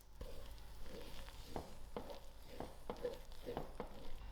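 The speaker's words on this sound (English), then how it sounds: "I will continue stirring on the low heat" Ice cream barfi mixture stirred in a pan over low heat, a spoon scraping in soft repeated strokes with a faint sizzle and steady background hum.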